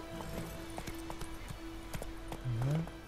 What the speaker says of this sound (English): Let's get my horse.